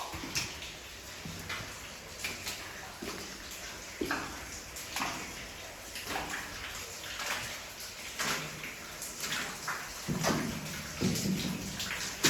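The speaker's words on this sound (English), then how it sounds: "Here we have some water coming down" Water trickling and dripping inside an abandoned mine, a steady wet patter with scattered sharp drips and taps, fairly close and alone with no talking.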